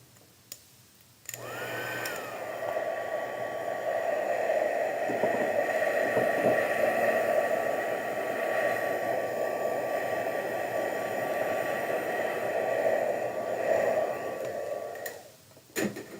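A hair dryer blows over an alcohol ink print on paper, switching on with a rising whine and holding a loud, steady close-up roar for about fourteen seconds before cutting off.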